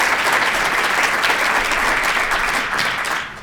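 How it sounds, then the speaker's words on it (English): An audience applauds at an evening education-foundation talk, a dense, loud, steady wash of clapping from many hands that holds for about three seconds, then starts to fade. "let's give him some applause."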